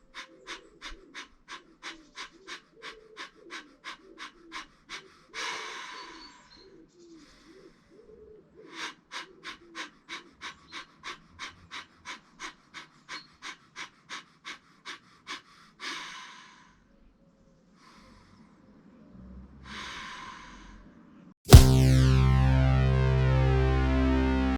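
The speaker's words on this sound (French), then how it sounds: "expirer violemment par le nez en exerçant une pression au niveau des muscles abdominaux" A person doing a yoga breathing exercise, forcefully exhaling through the nose like bellows, in two rapid rhythmic bursts of about a dozen sharp puffs each, separated by pauses and slower breaths, ending with a loud electronic tone.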